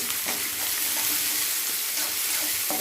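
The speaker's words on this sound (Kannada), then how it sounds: "ಇದು ಒಂದು ಸ್ವಲ್ಪ ಫ್ರೈ ಆಗಿ" Chopped onions, green chillies and curry leaves fry for kanda poha in a pan, giving a continuous close, bright sizzle with faint scraping as they are stirred.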